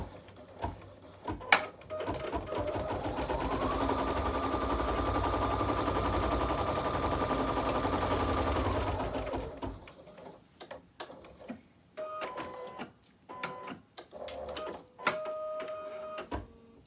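An embroidery machine stitches a tack down line with a fast, steady mechanical whir and rhythmic needle ticking for several seconds, then stops, followed by scattered clicks and short beeps.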